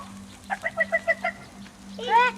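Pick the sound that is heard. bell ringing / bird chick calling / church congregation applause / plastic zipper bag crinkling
bird chick calling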